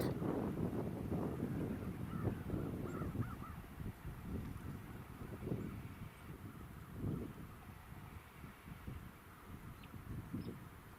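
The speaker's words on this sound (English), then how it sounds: "These crows are on their way back to the roost for the evening." Distant crows flying to their evening roost caw intermittently through steady wind noise, a faint, rough outdoor wash with scattered calls.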